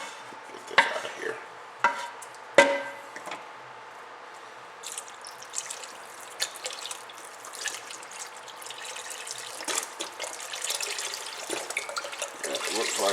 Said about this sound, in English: fill the pot up about halfway to 2/3